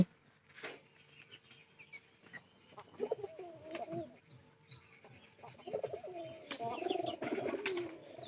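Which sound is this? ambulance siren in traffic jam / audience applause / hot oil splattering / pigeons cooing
pigeons cooing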